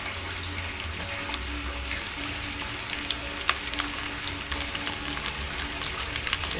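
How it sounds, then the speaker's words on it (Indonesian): Sliced spice paste sautés in hot oil in a wok, a loud continuous crackling sizzle with occasional spatula scrapes and small splashes, heard up close without talk. "Setelah minyaknya panas, masukkan bumbu yang sudah diiris tadi ya."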